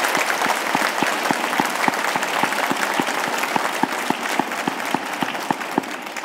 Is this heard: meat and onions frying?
no